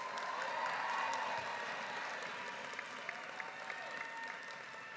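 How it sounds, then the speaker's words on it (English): Audience applause at the Linden-McKinley STEM Academy graduation ceremony for the class of 2025, a steady wash of many hands clapping that fills the hall evenly and fades slightly toward the end. "Please give them a round of applause."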